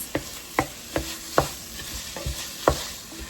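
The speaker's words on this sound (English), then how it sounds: "Let's let it cook a little bit longer so our onions can get tender and our beef gets all done" Ground beef and onions cooking in sauce in a pan, stirred with about seven sharp, regular scrapes over a soft, continuous sizzle, close and fairly loud with no talking.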